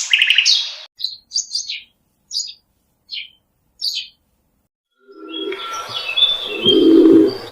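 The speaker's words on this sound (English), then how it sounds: "Pigeon." Pigeon calls ring out up close and loud: a string of short, separate chirping notes, then a denser, lower burst of cooing and fluttering sound at the end, with no talking.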